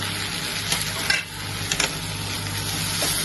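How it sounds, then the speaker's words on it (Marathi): Whole coriander seeds, cardamom, cloves and cinnamon roasting in oil with onions for a spicy Konkani chicken curry, a steady close sizzle with scraping stirs and a couple of brief clinks, no talking. "सगळा भाजून घ्यायचा मस्त तेलामध्ये कांद्यासोबत"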